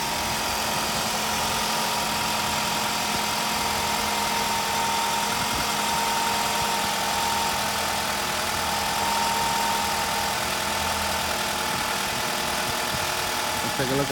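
A 2005 Scion tC with a 2.4 litre engine idling, a steady mid-pitched hum with a faint ticking under it, close and unchanging throughout, with no voices.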